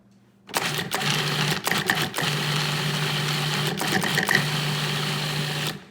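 A food processor runs in short bursts while making pesto, a loud, close motor whir broken by brief stops into about four pulses before it runs continuously. There is no talk over it.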